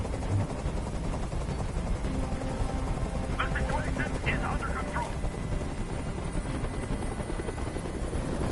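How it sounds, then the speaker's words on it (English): A helicopter's steady rotor roar fills the air throughout, loud and continuous, while someone speaks briefly over it. "Tell that helicopter to get out of here!"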